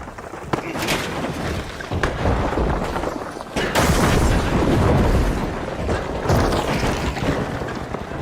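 A frag grenade going off in a video game during a loud firefight, with a blast booming near the middle among sharp overlapping bangs and continuous rumbling.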